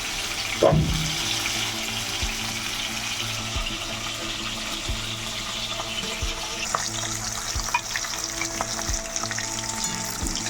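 Bhangor fish paste pieces fry over raised heat in hot oil in a home kitchen, a steady close sizzle with a sharp knock near the start and scattered crackles throughout, no voices.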